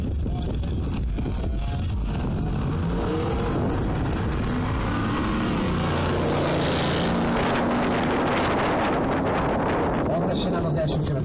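Drag racing cars accelerating at a season-closing acceleration race in Fertőszentmiklós, their engines roaring loud and continuous with wind buffeting the microphone, while people talk over the noise.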